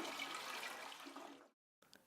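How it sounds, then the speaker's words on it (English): A toilet flushes as its tank empties while a smart water valve is being installed, giving a steady rushing gush for about a second and a half before it cuts off abruptly; a faint trickle follows. "flush the toilet,"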